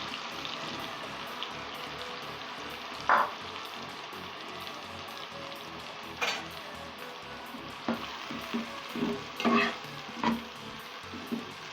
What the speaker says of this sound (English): Now that our oil is all heated up, I'm going to go ahead and fry the leeks and the onion as well